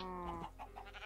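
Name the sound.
cows in Minecraft video game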